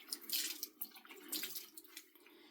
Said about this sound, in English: You're just squeezing out as much water as you can.